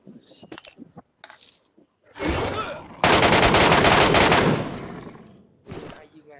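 Gunfire in the video game PUBG Metro Royale, a long loud burst of rapid automatic shots after a shorter volley, with scattered clicks and item sounds before and one more short burst near the end.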